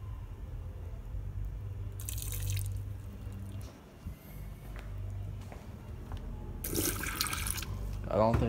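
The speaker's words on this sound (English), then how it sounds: "pour some water with the tomato sauce" Water splashes and trickles into a pot of spaghetti with tomato sauce in two short pours, close and moderately loud over a low kitchen hum, with a voice briefly heard at the end.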